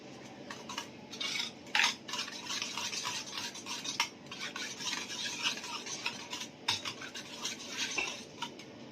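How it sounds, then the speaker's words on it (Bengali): Semolina and oats are mixed with sour curd and half a cup of water into oats idli batter, a close, steady run of scraping, rubbing spoon strokes against a bowl with no talking. "এর মধ্যে দিয়ে দেবো এক কাপ দই টক দই আর দিয়ে দেবো হাফ কাপ জল দিয়ে ভালো করে মিশিয়ে রেডি করে নেব"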